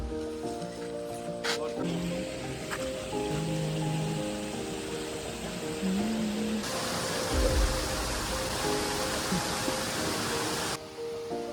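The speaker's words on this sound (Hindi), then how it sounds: "जोर जोर से गिरते पानी की आवाज कानों तक गूंज रही थी" Waterfall in Nayagarh with loud falling water: a steady, dense roar of rushing water swells in partway through and holds for several seconds before cutting off, over quieter tonal background sounds.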